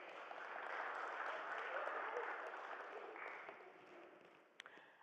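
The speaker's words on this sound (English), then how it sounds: "Let's give them a round of applause." A church congregation at a Unitarian all-ages Christmas service claps for a group of girls, a warm, fairly steady round of applause that slowly thins out near the end, with a couple of sharp individual claps.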